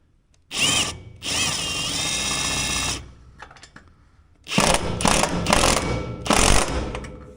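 A power drill or impact tool tightens the bolts of a wheel chock tie-down system on a Trail Rider 570, running in two sustained whirring bursts, then several shorter clattering runs, loud and close.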